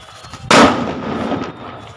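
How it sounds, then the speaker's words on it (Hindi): A firecracker bomb bursts with one loud, sudden bang close by, followed by a rushing, crackling tail that fades over a second or so. "देख रहे हो ऐसे ऐसे जलता है बम"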